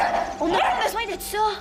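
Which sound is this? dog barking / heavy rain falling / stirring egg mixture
dog barking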